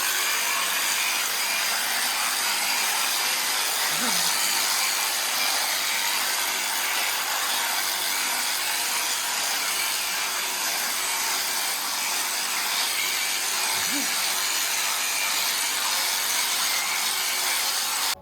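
An electric clipper shaves a buffalo, a steady loud buzzing and rasping drone running continuously and close throughout, with no talking.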